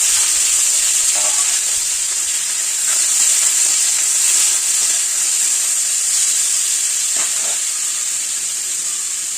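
Potatoes fry in a pan with a continuous, even sizzle and hiss, loud and close, with a few faint stirring knocks underneath and no talking.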